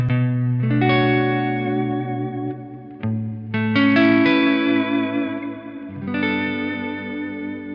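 Electric guitar played through a Bogner Snorkler amp with a Dispatch Master reverb and delay pedal, sustained chords and ringing notes with a shimmering, echoing tail, a short pause, then more lush chords, loud and close.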